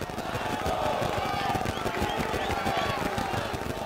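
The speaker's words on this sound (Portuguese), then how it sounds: "Olha o que a torcida do Criciúma canta." Criciúma football supporters chant together in a packed stadium during the Catarinense championship final against Brusque, a steady, dense crowd roar with rhythmic voices and scattered claps continuing throughout.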